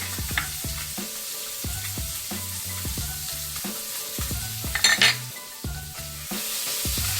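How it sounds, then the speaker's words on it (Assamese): Small mowa fish frying in a pan, with repeated metal clinks and scrapes of a utensil at a steady rhythm, a brief brighter hiss midway; no talking. "অকণমান মাছকেইটা ভাজি লৈছোঁ।"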